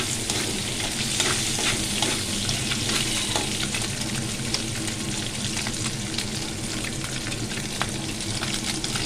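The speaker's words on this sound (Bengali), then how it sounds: "তেলের মধ্যে কালো জিরে লঙ্কা ফোড়ন দিয়ে লঙ্কাটা একটু ভাজা ভাজা হয়ে গেলে" Black cumin seeds and chilies sizzle steadily in hot oil, a dense, continuous crackle and hiss with scattered pops and stirring scrapes running throughout, close and fairly loud with no talking.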